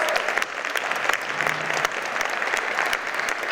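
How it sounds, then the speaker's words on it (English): Audience applause at a senior services VetConnect event in Clayton County, a dense, continuous wash of many hands clapping at an even, fairly loud level throughout. "So give yourselves a round of applause."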